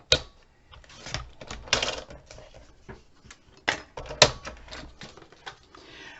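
Paper being cut for a Halloween craft album, with a run of crisp snips and slicing strokes at irregular intervals, close and fairly quiet, with small handling clatter between cuts and no talking.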